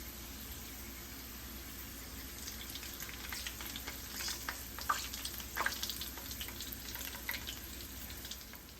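Beef wontons deep-fry in a pot of oil over medium heat, giving a steady close hiss with scattered crackles and pops throughout.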